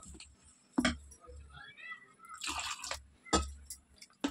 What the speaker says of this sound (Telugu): కొంచెం వాటర్ కలిపేసుకుందాము